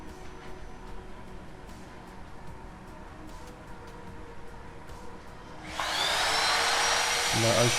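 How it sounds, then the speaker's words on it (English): Quiet room noise gives way to a loud, steady roar from a Black & Decker WDBD15 1400W wet and dry vacuum cleaner with upholstery head on a cushion, starting suddenly and running on close by. "I'm going to connect the upholstery vacuum head, and I'm going to quickly show you a demo on my cushion"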